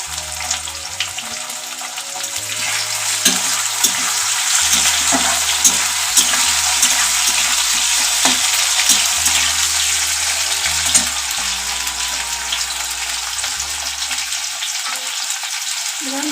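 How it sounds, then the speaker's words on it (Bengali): Chopped tomato frying in a pan of gourd greens with mustard, a steady sizzle broken by repeated stirring scrapes and clinks, close and fairly loud. "হালকা 1-2 মিনিট ভেজে নিয়ে এর মধ্যে আমি টমেটো কুচি দিয়ে দেবো"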